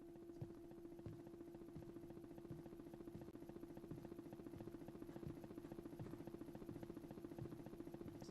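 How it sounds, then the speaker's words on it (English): Low, steady rotor throb of a helicopter in the horror exploration game Backrooms: Reminiscence, faint and distant with an even pulsing hum and no one speaking. "Sounds like a helicopter."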